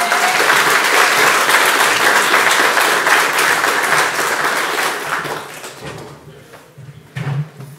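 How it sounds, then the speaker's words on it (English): An audience applauds a guest speaker introduced at a tech talk, steady loud clapping that fades after about five seconds, then a few thumps and rustles as things settle. "Give a round of applause for Jeri Ellsworth, please."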